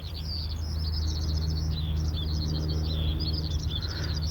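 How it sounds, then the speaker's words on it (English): Skylark song over an old pit top near Sherwood Forest, a continuous stream of high, rapid chirps and trills carried over a steady low rumble of distant traffic. "the song of the skylark is prevalent here"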